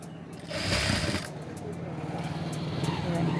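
A sewing machine stitching potli buttons runs in a continuous, fast mechanical whir, close and moderately loud, with a slight rise in intensity near the start and faint background voices.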